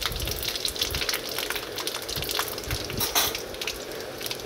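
Panch phoron spices dropped into hot oil with dry-fried red chillies crackle and spit in a dense, busy sizzle that stays close and fairly loud throughout, with no talking.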